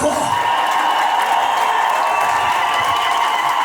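Wedding congregation applauding and cheering in a church, a steady loud wash of clapping with whoops running throughout, no pauses.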